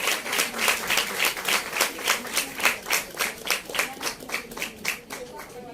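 Audience applause at a women's awards ceremony in Pune, steady rhythmic clapping from a crowd filling the room, loud and continuous before gradually thinning toward the end.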